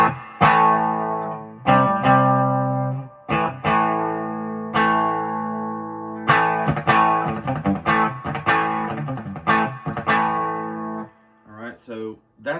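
Electric guitar played through a Fender amp set to a gritty, mildly overdriven tone, ringing chords and single-note runs with sustained decays, loud and close, no voices.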